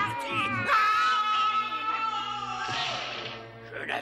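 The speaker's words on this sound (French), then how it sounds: "Je n'avais jamais entendu un hurlement caverneux." A cavernous, echoing howl from a Smurfs cartoon rises into a long, wavering wail that holds steady for several seconds, with a few thumps and cartoon sounds around it.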